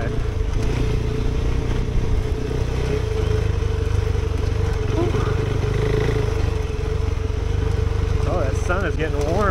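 A KTM 390 Adventure motorcycle climbing a mountain trail: a steady, close single-cylinder engine drone with a constant low throb and wind rush, holding an even pitch for the whole stretch.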